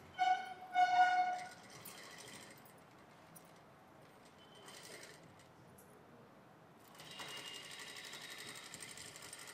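A sewing machine stitches piping on a blouse in short bursts, a quick rattling whir that starts loud, stops, then returns in softer runs with pauses between, close by and without talk.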